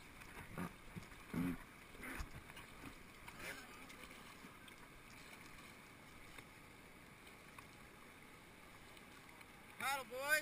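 A crew paddles a raft through whitewater rapids. Faint, scattered paddle strokes and splashes sit over a low wash of moving water and wind, with a few voices in the background.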